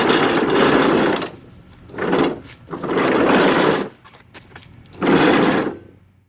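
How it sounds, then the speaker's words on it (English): A John Deere lawn mower deck is pulled out from under the mower, giving four loud, close bursts of grinding, scraping metal separated by short pauses. "so now I'm going to pull the deck out."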